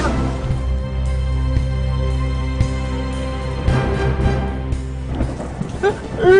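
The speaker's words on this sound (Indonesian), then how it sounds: "Mana hujan lagi." Heavy rain pours steadily with deep rolling thunder rumbling throughout, a loud storm under dramatic background music, with a sharper rumble swelling at the end.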